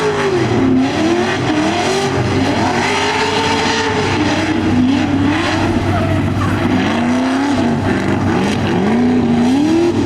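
A race car slides on the edge of grip with a loud, continuous engine roar and wavering tire squeal as the left rear steps out through a fast corner, heard close and alone.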